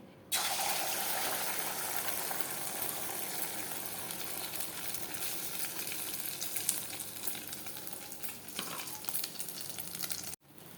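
Egg sizzling and frying in a hot pan for an omelette, a steady loud crackle throughout with faint stirring, no talk, cutting off abruptly near the end.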